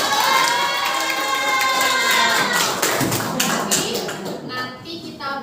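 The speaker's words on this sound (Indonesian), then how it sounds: "Coba tepuk tangan dulu." Children in a classroom clap and cheer together, a loud, dense burst of shouting and applause throughout that thins slightly near the end.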